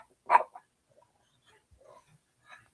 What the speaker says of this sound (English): Chester's in here barking.